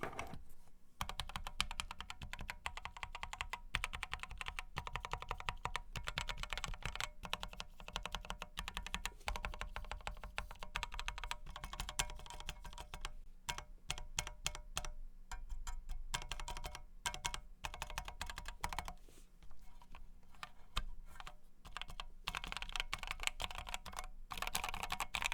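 Rapid typing on a modded KFA Course60 mechanical keyboard with a POM plate: dense, continuous clacky keystrokes in quick irregular bursts, close and crisp, with brief pauses and no speech.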